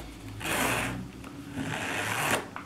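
A short raspy zipper pull on a leather medic bag, two quick scratchy strokes close up, fairly quiet.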